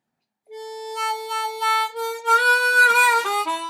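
Harmonica plays a short phrase from a solo, with held draw notes, bends sliding pitch downward, and a busier run of notes toward the end. Clear, solo and close.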